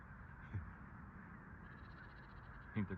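Birds calling overhead: a few faint, distant caws heard outdoors, one near the start and a slightly louder pair at the end.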